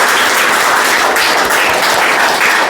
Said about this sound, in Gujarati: તાળીઓથી એમને વધાવીએ